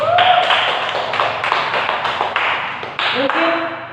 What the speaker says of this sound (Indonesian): Beri tepuk tangan untuk Tian loh.